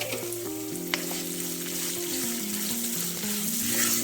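Onion frying for a prawn fry, a steady close sizzle in the pan, continuing evenly throughout with no talking.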